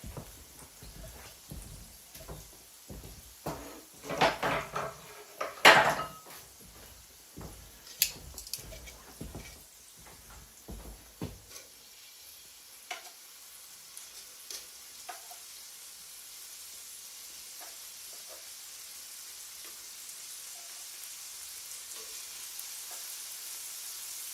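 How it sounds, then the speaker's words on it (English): Moose nuggets are dropped into a pan on a woodstove, with clattering and thuds at first, then a steady soft sizzle of frying that continues alone. "we're going to get the moose nuggets on there"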